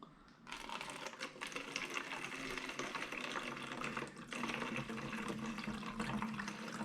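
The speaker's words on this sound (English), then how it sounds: "So it's just neat concentrated screen wash into the bottle" Concentrated screen wash pours neat through a funnel into a bottle, a steady close gurgling trickle of liquid that briefly dips partway through before flowing on.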